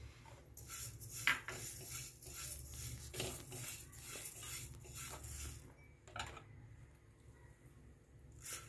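Dry coriander seeds tumble into a kadhai for dry roasting, giving soft rattling and scraping clatter with a few sharper ticks of metal against metal, close and fairly quiet.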